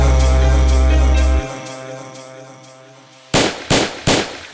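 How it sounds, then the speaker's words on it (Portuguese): Gunfire effect inside a Brazilian funk song about a shootout in a favela: a sustained music bed drops away, then three loud, sharp bangs follow in quick succession at the end. "Um tiroteio lá na favela"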